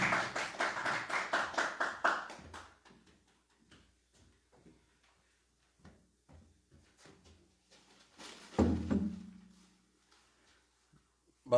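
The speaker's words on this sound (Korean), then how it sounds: "다 같이 열렬 박수." A group claps fast and hard in enthusiastic North Korean style to welcome a professor, a tight rapid burst for about two and a half seconds. Scattered taps and a heavy thump follow in a quiet room.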